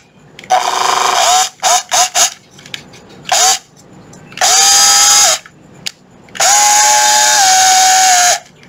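A Makita 18V cordless drill with 16 clutch settings and one drill setting, revved in several loud bursts: a few quick short pulses, then two longer sustained whines with rising pitch, separated by silence.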